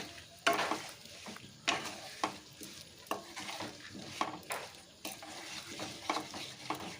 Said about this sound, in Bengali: গুড়টা দেখো নাড়াচাড়া করতে করতে বেশ সুন্দর মেল্ট হয়ে যাবে